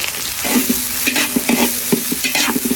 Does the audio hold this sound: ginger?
yes